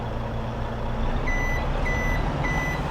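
A lorry in a farming video game gives off steady reversing beeps, evenly spaced and moderately loud, over a low engine rumble.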